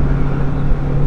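Lamborghini fitted with four titanium exhaust pipes, rumbling steadily with a loud, deep, continuous engine drone close by.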